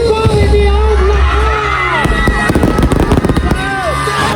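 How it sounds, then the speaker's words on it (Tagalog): Fireworks crackle and pop in rapid bursts over a loud crowd at a Christmas lights opening, with whistling tones, cheers and children shouting. "Pagkawaw sa fireworks display ni Yorme"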